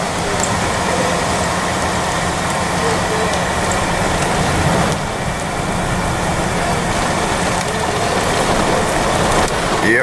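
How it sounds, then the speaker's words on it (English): Steady rain falls on a car, a dense continuous hiss of drops on the roof and windows heard from inside the vehicle, with a low rumble beneath that stays even and fairly loud throughout. "Yep, here comes the rain."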